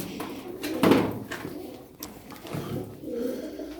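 Pigeons coo in low, rounded calls close by, with a louder burst near the start among faint rustles and a knock.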